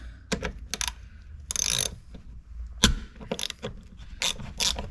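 A ratchet works corroded Torx screws on a 1993 Jaguar XJ40 XJ6, giving bursts of rapid clicking in short strokes, close and sharp, with pauses between them.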